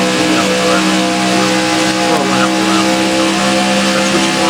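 On board a Can Am race car during a NAPRA Holley HP Cup Series duel, the engine holds a loud, steady, buzzing drone throughout with harmonic layers and faint shifting tones over the continuous roar.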